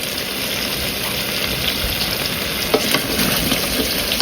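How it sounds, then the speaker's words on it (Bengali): Potatoes and eggplant sautéing together in a pan for a fish curry, a dense, even sizzle heard up close with a few faint scrapes near the end and no talking. "আলুটা কষানো মোটামুটি শেষ, এখন আমি বেগুন দিয়ে দেবো।"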